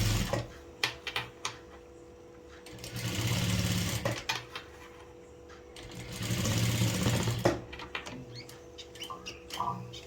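A sewing machine stitching sleeves onto a readymade top runs in two sustained bursts of rapid whirring, separated by short pauses filled with clicks and fabric handling, close and clear.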